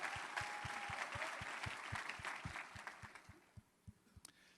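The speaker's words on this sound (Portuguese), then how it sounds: "E eu queria pedir uma salva de palmas para vocês que estão aqui hoje" An audience at a sales talk applauds. The clapping is faint and distant, with a thin crowd patter over a steady low thump. It thins to a few scattered claps near the end.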